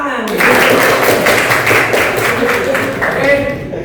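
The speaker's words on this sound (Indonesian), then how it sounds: "Oke, tepuk tangan." Steady, dense hand clapping from a group of people in a teacher training session, continuing evenly for a few seconds close by.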